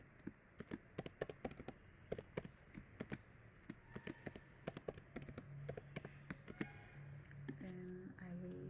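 Code being typed on a computer keyboard while building a React component produces a steady run of crisp, irregular key clicks. They are close but fairly soft, and a faint voice comes in toward the end.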